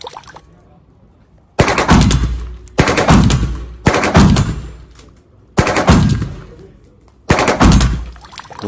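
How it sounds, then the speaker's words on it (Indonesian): Toy assault gun firing in five loud, separate bursts of rapid mechanical rattling, each cutting off sharply, with short quiet gaps between them. "Wow, ada tembak-tembakan serbu,"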